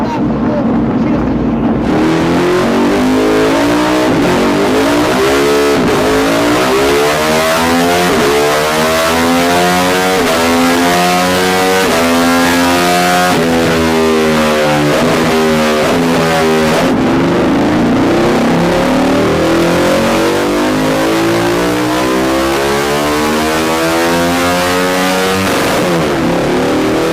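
A tuned motorcycle engine in the racing game Tune It Up revs hard and continuously, its pitch sweeping up and down through repeated throttle blips and gear changes, loud and close throughout with no talk.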